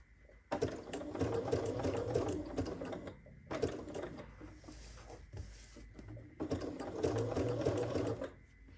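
A sewing machine runs a shortened zigzag stitch in three steady whirring runs separated by short pauses, close and fairly loud, with no talk over it.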